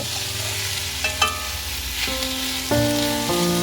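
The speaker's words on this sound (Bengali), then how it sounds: "এইভাবে এক মিনিটের মতো মশলার সাথে আমি একটু নাড়াচাড়া করে নেব" Grated potato stirred with spices in a hot pan, a constant close sizzle broken by a few scraping and clinking strokes of the spoon against the pan, with no voices.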